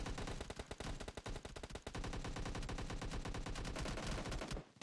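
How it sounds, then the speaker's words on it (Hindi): Dense, continuous gunfire from a gunfight in the PUBG Mobile battle royale game, with rapid automatic bursts and overlapping shots sustained loud for several seconds before cutting off abruptly at the end. "पूरी गन फाइट"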